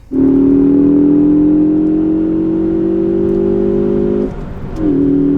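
A Ford Focus ST's engine drones steadily up close as the car accelerates, holding a constant pitch before briefly dipping and resuming, with no talking.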